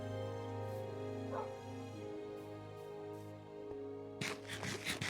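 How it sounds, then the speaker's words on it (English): A dog barks a few times in a video game, a cluster of quick yips near the end over steady game music and ambience. "We're walking the dog home."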